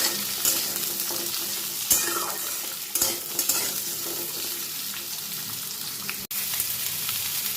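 Data stalks and potato pieces stirred in hot oil in a pan, a steady sizzle with scraping spoon strokes and occasional sharper knocks, close and loud, with no talking.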